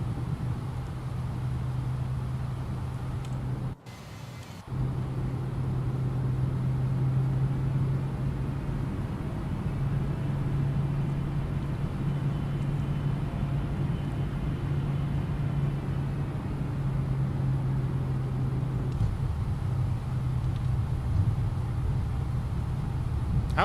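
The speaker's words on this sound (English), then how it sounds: "we'll see if we can taxi this thing with one engine" A Boeing 777-200 taxiing on a single engine in the X-Plane 12 flight simulator gives a steady low jet drone with a constant hum, briefly cutting out near the start, with no speech.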